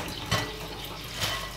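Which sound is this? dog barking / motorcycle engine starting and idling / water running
water running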